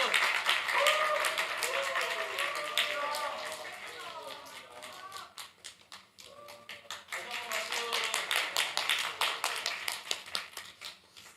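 Applause with scattered claps at a Korean church young-adults Sunday service as award winners are called forward, loud and dense at first, thinning midway, then swelling again into sharp rhythmic clapping, with voices talking over it.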